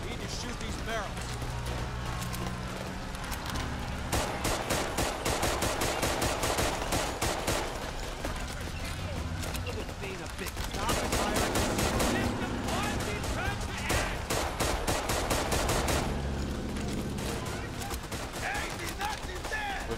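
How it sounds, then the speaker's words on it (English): Repeated bursts of automatic gunfire in the World War II shooter game Raid: World War II, clustered volleys of rapid shots with short gaps between them across the whole stretch. "we need to shoot these barrels"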